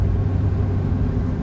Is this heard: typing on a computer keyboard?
no